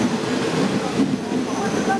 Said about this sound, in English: it is simpler and more convenient to travel at nighttime by train